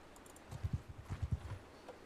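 Horses clip-clopping in the video game Mount & Blade II: Bannerlord, a run of about a dozen soft, close hoof thuds in uneven rhythm lasting over a second, with a brief faint bright tone near the end and no talk.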